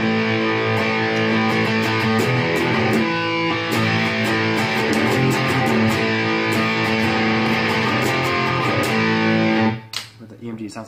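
Schecter C1 FR S left-handed electric guitar played through its Sustainiac pickup alone, a loud, dense, sustained and distorted tone ringing continuously for most of the clip before cutting off abruptly near the end.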